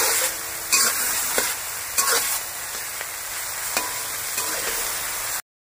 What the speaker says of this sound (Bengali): টমেটো কুচি আর পেঁয়াজ বাটাটা ভালো করে ভেজে নেব।